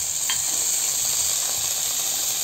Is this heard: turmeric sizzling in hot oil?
yes